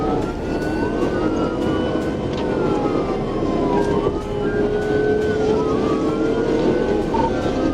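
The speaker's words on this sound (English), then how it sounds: "the roar of a motorcycle engine mixed with the wail of police sirens" Police sirens wail and sweep continuously through a high-speed motorcycle chase on a highway, loud and close, over a steady roar of engine and road noise with no talking.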